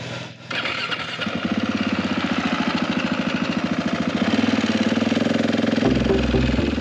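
An adventure motorcycle engine revs hard and steadily while riding through deep sand in the Flinders Ranges, Australia, its loud continuous drone climbing in pitch with rapid firing pulses throughout.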